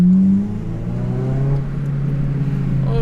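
Loud exhaust drone from an 8th gen Honda Civic Si, a steady close-up engine hum that dips slightly after a brief rev at the start and then holds continuously, with no talking.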